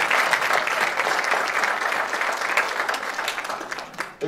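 An audience applauds at a short film festival award ceremony held by a college in İzmir. A loud, steady wash of many hands clapping continues throughout, close and dense, with no voices standing out.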